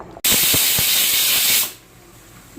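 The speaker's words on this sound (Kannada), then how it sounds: "ಎರಡು ವಿಷಲ್ ಆಗಿದೆ ಸೊ ಅದೊಂದು ಸ್ವಲ್ಪ ಪ್ರೆಷರ್ ಹೋಗೋವರೆಗೂ ಬಿಟ್ಟು" Pressure cooker venting steam after its whistles while cooking a vegetable sambar: a sudden, loud, sustained hiss that begins abruptly, holds for over a second, then drops away to a low residual rush.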